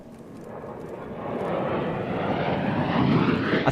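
Thunderbirds display jets roar on takeoff, a broad engine rush that swells steadily louder over a few seconds with no talking.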